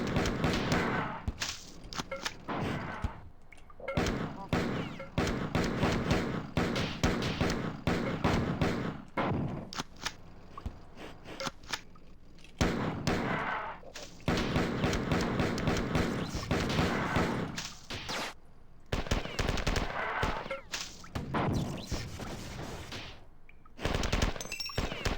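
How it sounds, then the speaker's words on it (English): Dense, loud gunfire and explosions from grenade-shooting enemies in the 1995 game Marathon 2: Durandal, with rapid bursts and blasts continuing almost without pause, broken only by a few brief gaps. "These guys shoot grenades and explode"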